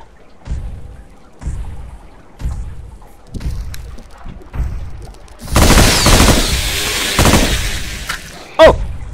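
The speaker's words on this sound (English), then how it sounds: "With the machine gun, it's gonna be easy." In The Brookhaven Experiment, a video game, a machine gun fires heavy thumping shots about a second apart, then breaks into a dense, loud roar of sustained fire and impacts before a final sharp blast.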